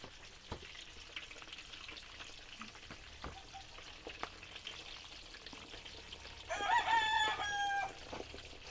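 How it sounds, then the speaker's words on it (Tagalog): Embutido, a Filipino pork roll, sizzles steadily as it fries in hot oil, a constant crackling hiss throughout, while a rooster crows loudly nearby toward the end. "Prito na po natin."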